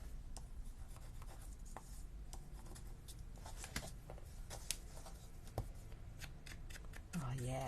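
The edges of a handmade paper card being rubbed down by hand, with soft scratchy strokes and light taps, close and faint, and a voice at the very end.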